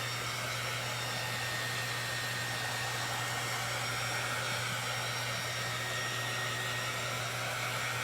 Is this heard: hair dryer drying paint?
yes